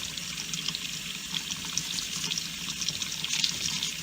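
Tap water runs steadily over a denture being rinsed at a sink, a constant close splashing hiss with small irregular spatters and no voices.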